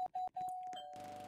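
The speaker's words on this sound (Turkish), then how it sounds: "Evin zili çalıyor." A house doorbell in the Roblox Brookhaven game chimes with a few clear electronic ding-dong tones in quick succession, followed by a burst of softer game noise, with no talking.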